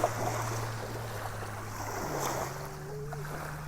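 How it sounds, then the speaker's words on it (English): Waves and splash from passing powerboats wash along the shore at sunrise, a soft, steady rush of water with a faint low motor hum in the distance, heard alone without talk. "powerboats out there creating waves and splash"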